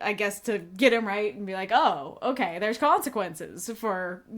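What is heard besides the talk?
No everyday noise stands out behind the speech.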